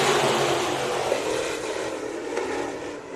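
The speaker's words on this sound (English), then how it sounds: "Olds and Loftus bringing the field to green" A field of race cars roars toward the green flag at Bakersfield Speedway, a loud, steady, dense engine roar that builds with a rising whine and holds throughout.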